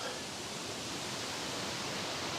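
Middle Creek Falls, a triple waterfall, rushes in a steady, even wash of falling water heard alone without talk.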